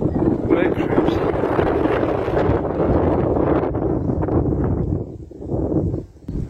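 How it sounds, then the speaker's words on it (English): Strong wind buffets the microphone in a steady, heavy roar that eases briefly near the end. "It's another windy day."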